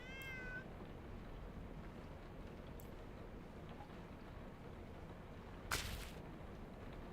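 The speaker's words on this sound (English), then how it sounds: "There's a cat in here." A single short cat meow at the very start, over steady low background noise, followed by a brief sharp burst later on.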